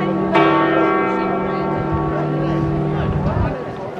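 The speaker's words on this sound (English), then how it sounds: "Ah, caught the last of the bells." Church bells in Rome ring out in a fading peal with steady sustained tones, while voices and crowd chatter carry over the top.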